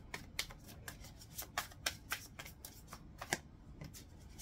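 Tarot cards shuffled by hand in a steady run of crisp riffling slaps, fairly faint and close, with no talking.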